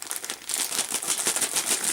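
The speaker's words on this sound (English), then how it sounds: "And stop rustling!" Packaging rustles and crinkles close by in a rapid, irregular stream of crisp crackles, growing busier after a brief lighter start, with nobody talking over it.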